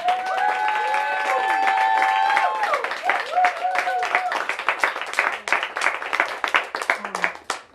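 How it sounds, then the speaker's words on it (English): Audience at a poetry reading for Tawanda Mulalu clapping, with cheers and whoops over the applause at first, then the clapping thins to scattered hands toward the end. "You can continue your applause for Tawanda."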